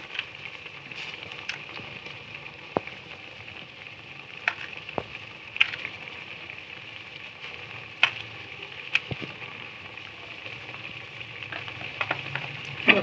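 Green chillies frying with garlic, onion and tomato masala in a pan, a steady low sizzle with occasional sharp clicks and scrapes of stirring, heard close and alone.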